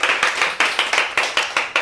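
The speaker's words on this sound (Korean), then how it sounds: "박수 한번 합시다." A church congregation claps in a steady rhythm, about seven sharp, even bursts of many hands in unison, loud and close inside the worship hall, with no voices over it.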